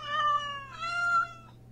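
Cats meow in the Teeny Titans video game, two clear close meows in quick succession over a steady low hum, with no talk.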